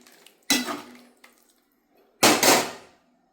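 Ground paste poured and stirred into a cooking pot for Kerala fish curry, heard as two loud bursts of scraping, clattering utensil-on-pot noise with a quieter clink between them.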